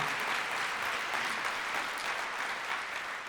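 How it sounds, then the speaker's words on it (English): Steady audience applause at an evening awards ceremony, many hands clapping in a dense, even wash that holds at a constant level throughout with no voices over it. "yes, you should clap for yourselves."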